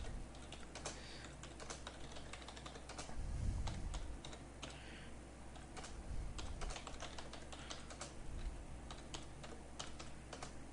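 Keys clack on a computer keyboard in quick, irregular bursts of typing, soft and close in a quiet room.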